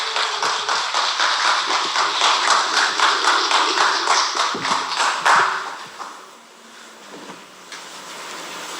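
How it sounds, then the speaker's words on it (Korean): A church congregation at a Wednesday service claps to welcome a speaker, with loud, sustained applause for about six seconds that then fades into quieter room noise. "우리 큰 박수로 맞아주시기 바랍니다"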